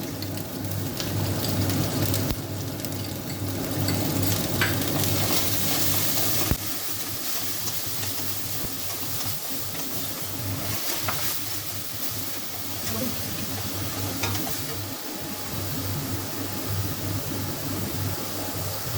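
Soaked turmeric and chili powders with cumin and coriander powders fry in hot oil in a pan for muri ghonto, producing a loud, unbroken sizzling hiss that lasts throughout.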